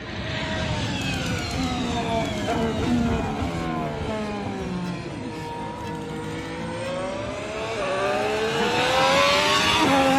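Ferrari SF-26 2026 Formula 1 car engine, a high, whining note sweeping down and back up through the revs, loud and sustained with no talk over it.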